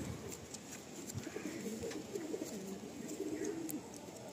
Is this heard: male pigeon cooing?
yes